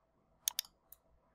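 Two quick mouse clicks on a computer, close and crisp against near silence, followed by a fainter single click.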